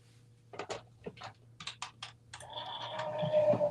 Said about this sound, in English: So I'm going to go ahead and die cut that.